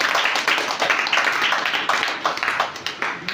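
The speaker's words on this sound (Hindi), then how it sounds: "एक जोरदार ताली।" An audience claps together in a steady, dense burst of applause filling the whole stretch, fairly loud and close, with no voices over it.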